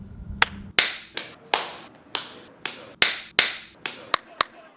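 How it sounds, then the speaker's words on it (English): A single person claps hands close to the microphone, about a dozen sharp, distinct claps in a loose irregular rhythm, each with a short room echo, in a quiet interview setting. "Roberto, and clap for me."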